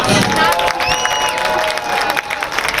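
A crowd at a college football game applauds and cheers for an honored team doctor, with steady clapping and scattered whistles and shouts spread across the stands.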